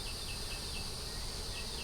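Honeybees buzzing steadily from a hive in South Carolina, a dense, continuous hum of many insects, close and even, with no voices.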